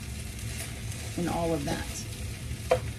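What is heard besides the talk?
kimchi fried rice frying and being stirred in pan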